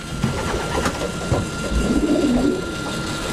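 Racing pigeons coo softly in a loft, with low, repeated calls over a constant background hum and rustle.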